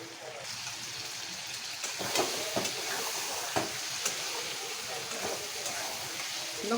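Brinjal simmers in a covered pan on low gas with a soft, continuous hiss, and scattered clicks and taps rise now and then above it.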